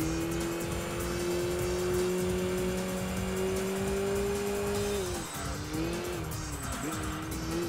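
Car in the Enthusia racing game braking hard, its tires letting out a loud sustained squeal over a steady engine drone, with the pitch dipping and wavering near the end as the car slows.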